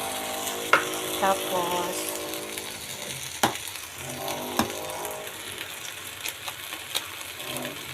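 Tofu sisig fries in a pan with a steady close sizzle while a spatula stirs it, giving irregular scraping clinks against the metal. A voice speaks briefly over the cooking.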